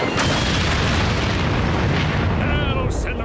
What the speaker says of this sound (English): Shoot at the bomb. Blow it up.